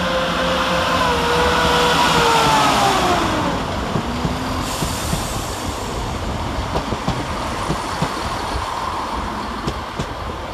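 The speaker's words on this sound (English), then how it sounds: "Train out to depart is 17433, working the 1500 ScotRail service to Arbroath via Lucas" ScotRail train 17433 pulling out of Edinburgh Waverley on the service to Arbroath, a diesel engine note rising then fading while wheels clack over rail joints in a steady rhythm under station ambience.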